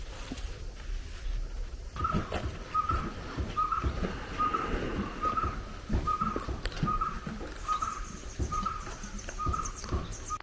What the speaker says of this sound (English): We are surrounded by a lot of birds, and their sounds are something to cheer for in this beautiful property.